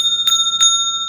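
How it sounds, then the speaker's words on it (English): A single bell is struck once as a stand-in for a host's cue. It gives two bright, ringing strikes with a steady sustained tone that lingers through the short clip, close and clear, with no talking. "Let me hit the bell one time."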